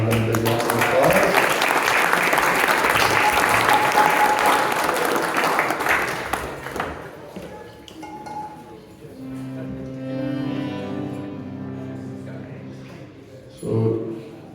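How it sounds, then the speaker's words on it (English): Audience applause at a kirtan, a broad wash of clapping that fills the first seven seconds, then thins out and gives way to quieter talk and a sustained tone. "Please give Vrindavan a big round of applause."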